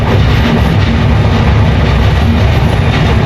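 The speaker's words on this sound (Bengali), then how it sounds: "ট্রেন যাচ্ছে যমুনার উপর দিয়ে আমরা ক্রস করছি যমুনা সেতু" A train crossing the Jamuna Bridge rumbles loudly and steadily, with a constant heavy roar and faint rhythmic clatter throughout, no voices.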